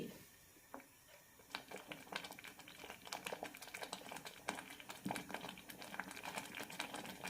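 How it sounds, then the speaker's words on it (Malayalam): Kerala-style jackfruit curry (chakka koottan) bubbling in a pot, faint soft popping and crackling ticks scattered irregularly throughout, quiet and close with no talk. "നന്നായി ഒന്ന് തിളച്ചാൽ മതി"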